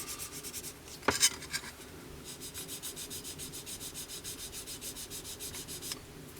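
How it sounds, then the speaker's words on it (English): Coarse grade sanding stick worked over a seam on the underside of an Italeri 1/48 Hawk T1 plastic model kit, giving soft, close, steady rhythmic rubbing strokes with a sharper scrape near the start. "So I'm just going to use a coarse grade sanding stick just to"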